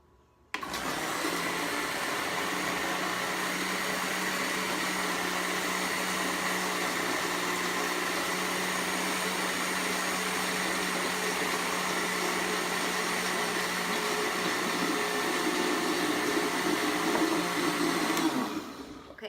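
Blender running continuously at full speed while mixing oils and liquids into an emulsion for a natural anti-aging facial moisturizer, a loud steady whir that starts abruptly and stops near the end, with no talking.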